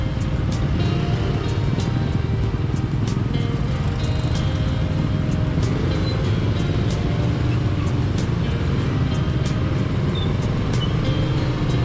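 A bus engine rumbling steadily as it approaches on a narrow road, heard from inside a vehicle, with a loud, continuous low drone and faint road noise.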